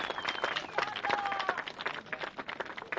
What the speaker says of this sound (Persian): بله تشویقش بکنید.